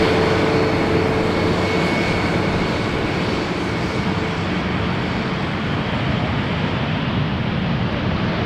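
A KLM Boeing 787-10 Dreamliner arriving from New York at Amsterdam Schiphol runway 18R gives a constant broad, loud jet roar with faint tonal whines, steady throughout and free of speech.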